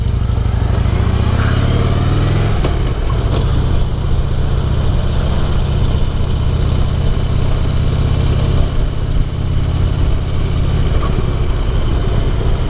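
A Harley-Davidson Dyna Switchback motorcycle engine idles steadily at a quiet Florida coastal spot by a fishing pier and sand beach, a continuous low rumble held close and loud throughout, with a slight change in tone partway through.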